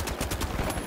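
Rapid gunfire rattles in The Finals, a dense volley of close, loud shots packed into under a second over a steady wash of game noise.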